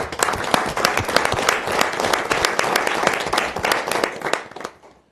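Attendees at a Rouyn-Noranda city council meeting break into lively applause, crisp claps densely overlapping at full strength before tapering off to silence at the end.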